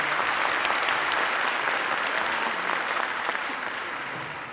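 An audience at a Caucasian cultural night in Kayseri applauds the band, a full, steady roar of many hands that fades slightly toward the end.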